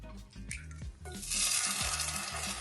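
An egg frying in a pan with coconut oil, cooked outdoors in the mountains: a soft, steady sizzle builds after a few light pan knocks and a low background hum, swelling louder and staying constant to the end.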